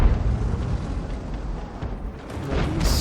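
Tank cannon shots and explosions in a tank video game, a Tiger (P) fighting near a Type 57 Heavy, rumble as a dense continuous barrage of booms and blasts with a brighter crack near the end, no voices.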